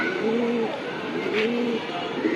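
A silver male pigeon coos nearby in repeated soft, rolling calls over a low background murmur.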